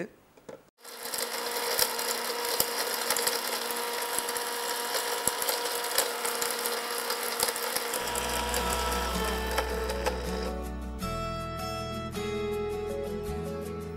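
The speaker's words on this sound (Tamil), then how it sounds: "சிறுகன் பேழை மிக்சியில் இட்டு அரைத்து" A kitchen mixer grinder pulverising dried medicinal herbs, including whole nayuruvi plant and sirukan peelai, into powder. The motor whirs loudly and steadily at close range for about ten seconds, then its tone shifts near the end.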